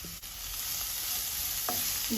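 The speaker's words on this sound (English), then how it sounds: "Now these mushrooms are cooked, adding chopped onions and green chilies." Mushrooms with chopped onions and green chilies frying in a pan: a steady close sizzle with a few soft scrapes of stirring, moderately loud, with no voices.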